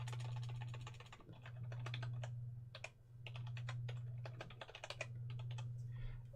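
A password typed on a computer keyboard: quick, close clicking keystrokes in bursts with brief pauses, over a steady low electrical hum, with no talk.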